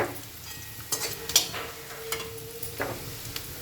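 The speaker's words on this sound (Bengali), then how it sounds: "এবার আমি মশলাগুলো সব দিয়ে দেবো" Spices tipped onto onions fried until red in a pan, soft sizzling with a few clinks and scrapes of stirring, fairly quiet and close, no talking.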